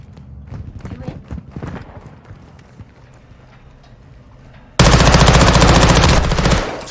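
Gunfire in the online shooter Battlefield Hardline: scattered shots under voice chat, then a loud, sustained burst of rapid automatic fire near the end.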